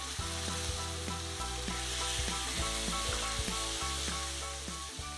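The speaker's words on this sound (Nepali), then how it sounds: "अब यसलाई राम्रोसँग चलाउनु पर्छ जब यो राम्रोसँग फ्राई हुन्छ" Lapsi (hog plum) fries with turmeric in a pan, a steady close sizzle broken by repeated scraping knocks of stirring over medium heat, with background music.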